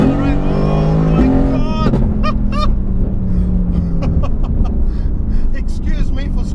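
A 2018 Mercedes-AMG GT R accelerates hard in second gear, its loud engine note climbing close by, while excited voices shout over the rising roar.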